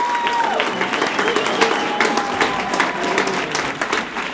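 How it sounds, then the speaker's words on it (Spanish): Audience applause in a Miami entertainment show, sustained clapping with some crowd noise and a tone in the background, loud and continuous. "¡Un aplauso para nuestro bombón encendido!"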